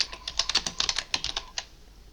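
Someone types on a computer keyboard while editing PDF text, producing a quick run of close, crisp key clicks at an uneven rhythm that trails off into quiet, with no speech.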